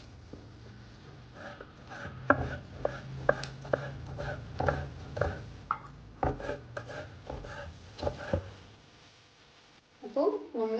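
A spiny soursop is being cut up by hand for a roasted-coconut curry, giving close, irregular knife taps and scraping chops on a board, with soft murmuring voices in the background and a brief clatter near the end.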